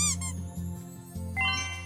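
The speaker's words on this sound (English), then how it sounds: "I like the squeaky bumpers though, because it sounds cute and adorable." Cute squeaky bumper sound from the video game Second Life: a few short, bright toy-like squeaks over a steady low hum, close and clear.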